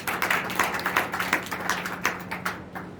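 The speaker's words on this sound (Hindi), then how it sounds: "तो एक बार अपने खुद के लिए जोरदार ताली बजाएं" A group of teachers at a teachers' association welcome gathering clap their hands together in an indoor room, a brisk, uneven patter of claps close by that thins out toward the end.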